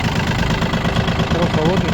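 A Yanmar F-200 mini tractor engine cranks and catches, settling into a steady mid-pitched rumble that runs continuously and fairly loud through the short clip.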